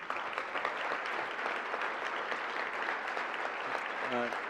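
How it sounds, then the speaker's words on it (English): Audience at a college football awards banquet applauding honorees, a continuous even patter of many hands for several seconds, with a short sung or spoken tone near the end. "if we can give these guys a round of applause, I'd appreciate it."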